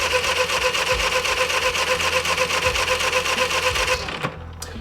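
A Honda EU3000iS inverter generator cranks by wireless remote, its starter churning in a fast, steady rhythm close by before dropping away near the end.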